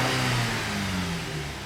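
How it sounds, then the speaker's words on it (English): Low, steady engine drone from a GMC Acadia running just after startup while it has a check engine light and lean, misfire faults, heard close and alone with a slight drop in level. "the engine is running."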